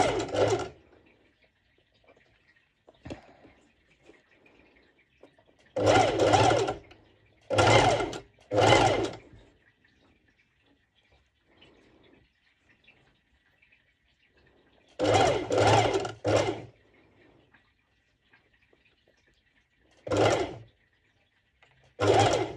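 A sewing machine stitches mesh fabric close to the edge for a halter neck top. It runs in short, rapid bursts, in clusters separated by quiet pauses, with no talking.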